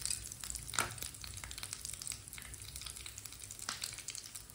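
White chickpea shami kebabs fry in a pan on a stove over low heat, giving a continuous close sizzle, with a few sharper crackles and scraping touches as they are turned.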